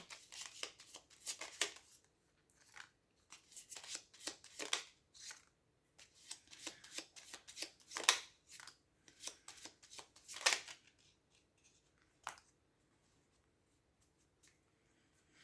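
A tarot deck shuffled by hand in rapid, papery bursts that come and go, fairly close and quiet, with short pauses between runs and no talking.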